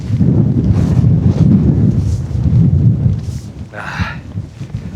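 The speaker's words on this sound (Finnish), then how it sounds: "Mutta on sen verran kova tuuli jo, että saa suoraan nojata vähän tuulta vasten." Strong wind roars and buffets the microphone on the summit path of Saana fell at Kilpisjärvi, a loud, continuous low rumble with gusty swells, and a brief rustle of movement near the end.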